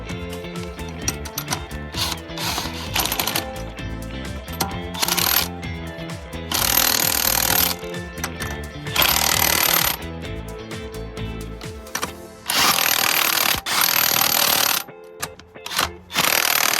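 Bursts of a pneumatic impact wrench spinning and hammering lug nuts tight on a Tesla Model X during a winter tire swap, several loud rattling runs separated by pauses, with clanks and shop noise between them.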